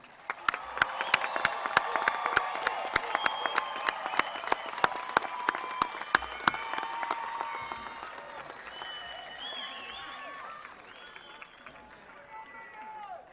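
Commencement audience applauding graduates in a large hall, a dense steady round of clapping with sharp individual claps on top that gradually thins out, while a voice speaks over it.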